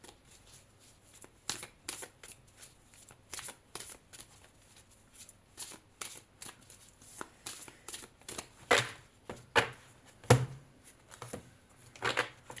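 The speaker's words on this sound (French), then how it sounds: "il y en a qui disent qu'il faut couper et tirer les cartes de la main gauche" A deck of playing cards being cut and shuffled by hand, a run of quick riffling bursts and soft slaps that grow busier and louder toward the end, close and with no talking.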